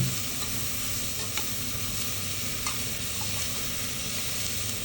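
Chopped szalonna, Hungarian smoked pork fat, fries in a pot for bean soup as its fat renders, making a steady close hiss of sizzling with a few faint clicks of stirring and no talk.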